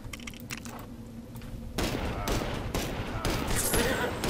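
Rifle gunfire in the blocky building game Lego Worlds, a fusillade of rapid cracking shots that starts abruptly partway through and keeps going loud and dense to the end, after a quieter stretch of game ambience.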